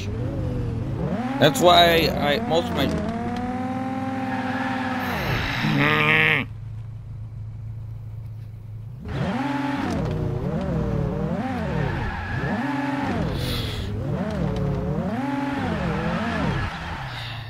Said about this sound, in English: Yeah, you can tell my drifting is trash.